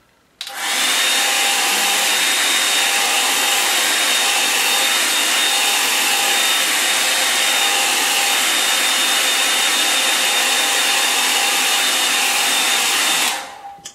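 A hair dryer blows steadily on a watercolour painting of a windswept coast, switching on and then roaring loud and unbroken with a faint whine for about thirteen seconds before cutting off.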